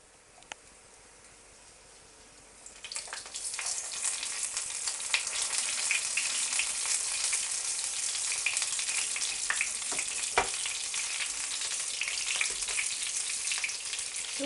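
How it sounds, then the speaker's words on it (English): Sweetcorn fritters frying in a pan of oil, a quiet start then a steady bright sizzle and crackle that holds on, close and moderately loud, with no talk. "So we'll have to fry these in batches."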